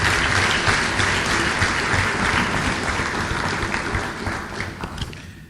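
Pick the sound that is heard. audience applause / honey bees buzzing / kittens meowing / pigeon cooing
audience applause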